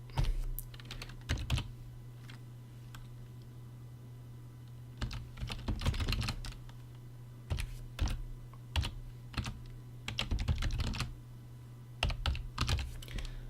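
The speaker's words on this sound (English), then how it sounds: "I think I typed all that right." Computer keyboard typed on in bursts, commands entered into a Linux Ubuntu terminal; quick clusters of close, crisp key clicks separated by short pauses, with a steady low hum beneath and no talking.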